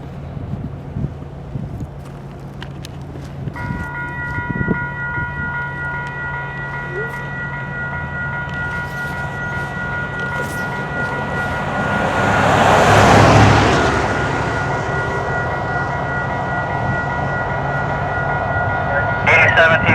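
A long freight train of 130 cars, including tank cars carrying flammable material, rolls past at Cherrywood East with a steady rumble and clatter, a sustained horn-like tone and a louder swell midway, while a person talks over it.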